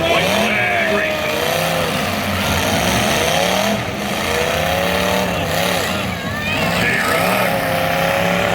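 Cars in a team demolition derby race around the track with loud, overlapping engine revving that rises and falls in waves, while an announcer talks over the noise.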